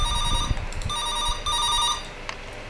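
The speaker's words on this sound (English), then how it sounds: "Oh no, the phone." An electronic phone ringing in the horror game Cat's Cradle, two repeated bursts of bright trilling tones over low rumbling background noise, alone with no talk.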